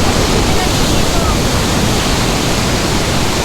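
Big ocean waves at a beach resort in Baler give a loud, continuous wash of broadband surf and rushing water that fills the whole stretch without a break.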